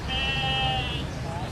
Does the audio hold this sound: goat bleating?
yes